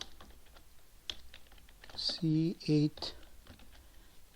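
Computer keyboard typing while entering Excel VBA code, soft rapid key clicks up close under a voice speaking briefly in the middle.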